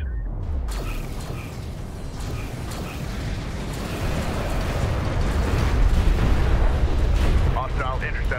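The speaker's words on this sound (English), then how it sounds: "Enemy airstrike inbound." Airstrike explosions in Homeworld: Deserts of Kharak, a desert real-time strategy battle, rumbling as a dense, continuous wash of booms and crackling debris that swells louder toward the end, with distant mechanical creaks.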